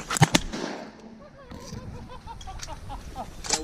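Shotgun blasts ring out over flooded corn during a waterfowl hunt, two sharp close reports in quick succession near the start, followed by quieter outdoor ambience with faint calls.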